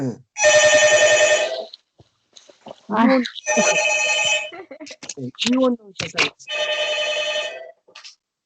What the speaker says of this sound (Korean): 요새 일반 전화도 울리네